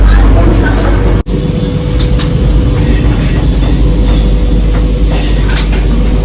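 A Vande Bharat Express pulls out of Kanpur Central station, heard from inside as a loud, steady rumble with rail noise, faint wheel squeals and a sharp click near the start, while someone talks over it throughout.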